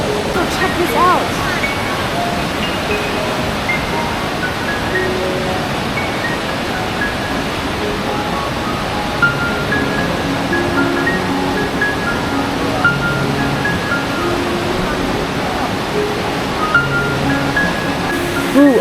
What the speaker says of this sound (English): It seems like the water is much faster than the other.